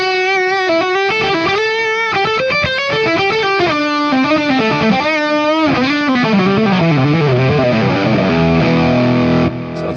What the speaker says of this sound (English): This is a distortion now.